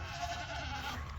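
Goats in their pen bleat softly at a distance over faint background noise.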